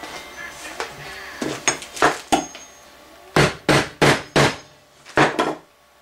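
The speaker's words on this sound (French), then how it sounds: "il reste à donner un bon coup de marteau sur tout ça" Hammer blows strike a rivet set in leather armour, about a dozen sharp close knocks arriving in uneven groups, a quick cluster early and a rapid run of four heavier hits later.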